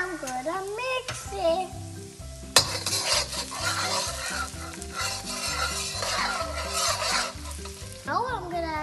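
Garlic stir-fried in a pan for Indo-Chinese Schezwan chicken: a steady, close sizzle with repeated scraping stirs throughout, loud and continuous, with a brief sharp clatter partway and faint music-like tones underneath.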